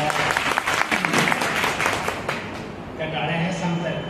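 Audience clapping at a Women's Day event in a college hall, dense applause filling the first few seconds and then thinning as a voice carries on over it.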